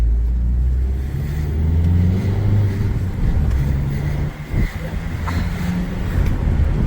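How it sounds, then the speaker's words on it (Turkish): A car rolls slowly in or out of a seaside campsite, its low engine hum steady and moderately close, with some wind buffeting and a brief dip midway. "Yavaş araba çıkıyor galiba ya da giriyor mu ne yapıyor?"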